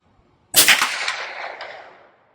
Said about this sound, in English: This should be the last shot.